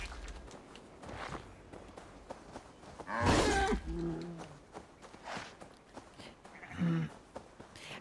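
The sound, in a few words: cow mooing in video game Assassin's Creed Valhalla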